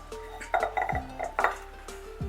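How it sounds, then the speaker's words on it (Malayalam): A spatula mixes hot cashew dough for kaju katli in a pan, with close clinks and scrapes of metal against the pan in irregular strokes, plus some humming tones in the background. "ഞാനിപ്പോൾ തൽക്കാലം ഈ സ്പാച്ചുല വെച്ചിട്ട് തന്നെ അതിനെ ഒന്ന് മിക്സ് ചെയ്ത് കൊടുക്കുകയാണ്"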